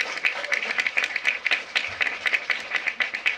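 Audience applause at the Buley Library opening ceremony in Connecticut: sparse, moderately distant clapping from a modest crowd with an uneven rhythm, steady through the stretch with no voices standing out.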